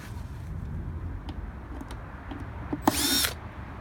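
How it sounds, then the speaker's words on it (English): An electric screwdriver briefly whirs as it backs a screw out of a gardener's beehive, one short burst near the end of the clip. Steady low outdoor noise fills the background. "I've got an electric screwdriver, so that's what I'm going to use."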